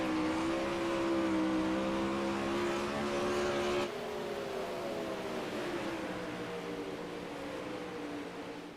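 360 sprint cars race on the Bristol dirt track during a championship-night C-Main, engines roaring loud and sustained with shifting harmonic whine, the pack's pitch dropping partway as the cars sweep past.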